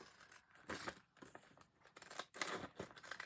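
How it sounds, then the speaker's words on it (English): Regular scissors snip through paper for a hardcover book journal in several quick, close cuts with crisp rustling between them, no voices. "take regular scissors. I'm going to cut, I see, about a little over half of an inch."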